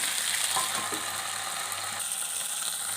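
Fish frying in hot oil under a covered plate gives a dense, even sizzle with a faint rattle, close and steady throughout.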